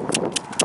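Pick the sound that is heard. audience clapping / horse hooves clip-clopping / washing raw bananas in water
horse hooves clip-clopping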